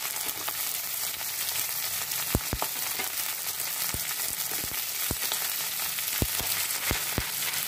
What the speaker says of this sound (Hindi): इसे मैं अब ये कटा हुआ आलू को डाल दूंगी।